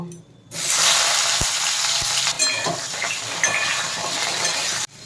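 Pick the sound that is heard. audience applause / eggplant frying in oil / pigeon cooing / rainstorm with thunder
eggplant frying in oil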